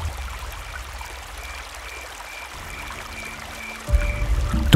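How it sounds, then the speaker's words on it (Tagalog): A river flows with a steady rushing, trickling wash, continuous and moderately loud, swelling with a deeper low rumble toward the end. "Tunog lang nung ilog ang maririnig mo."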